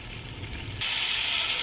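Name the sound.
chicken frying in oil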